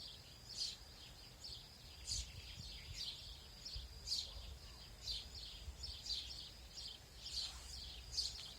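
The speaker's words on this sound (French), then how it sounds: "Et les oiseaux" Garden songbirds chirp outdoors in a steady run of short, bright calls about once a second, moderately distant over a quiet background, with no voices.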